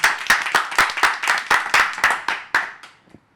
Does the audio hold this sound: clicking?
no